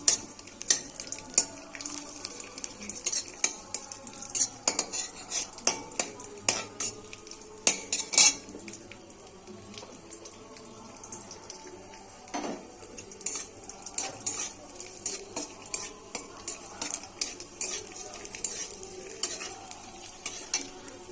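Cashews and raisins fried in a wok for basanti pulao: a light sizzle sits under frequent clattering spatula scrapes and metallic knocks against the pan, continuing throughout.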